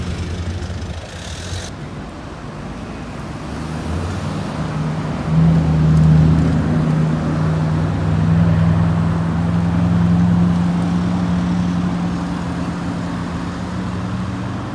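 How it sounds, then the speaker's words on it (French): A convoy of luxury cars with Dubai plates, including a Range Rover, a Bugatti, a Rolls-Royce and Mercedes models, rolls in at Nice airport, a steady low engine rumble that swells slightly midway and holds, fairly loud and close. "le convoi de 5 voitures direction Cannes vient d'arriver à l'aéroport"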